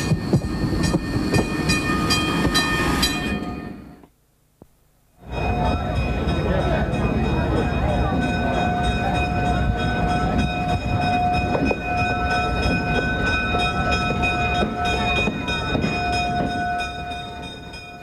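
An Electroliner streamlined electric train, around 50 years old, at the Illinois Railway Museum in Union, rolling past loud and steady with a continuous rumble and a sustained horn-like tone, broken by a brief drop to near silence partway through.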